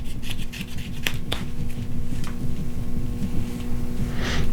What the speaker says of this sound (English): Take your knife, cut a few down low, cut a couple in the middle